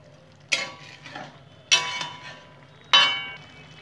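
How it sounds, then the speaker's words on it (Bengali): A vegetarian eggplant curry being stirred in a pot, three distinct metallic clinks of a spoon against the rim spaced about a second apart, close and clear with quiet pauses between. "আমি নেড়ে নেবো একটু"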